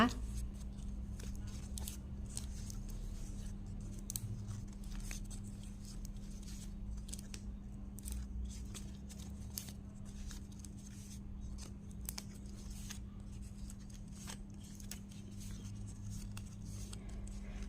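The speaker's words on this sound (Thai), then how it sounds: "พับหักมุมและหมุนเก็บมุมไปเรื่อยๆเลยนะคะ" Soft crinkling and rustling of a fresh pandan leaf being folded and turned into a rose shape, small crisp handling sounds repeating over a steady low hum.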